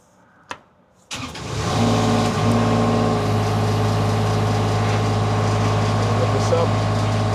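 A JLG 125 boom lift engine starts after a quiet moment and a brief click, then settles into a loud, steady mid-pitched idle drone that runs close and continuous throughout.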